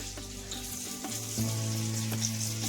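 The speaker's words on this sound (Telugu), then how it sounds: "ఇప్పుడు నేను కరివేపాకు వేస్తున్నాను" Curry leaves crackle and sizzle steadily in hot oil alongside chicken leg pieces frying for a crispy leg fry, with a few stirring scrapes over the constant hiss.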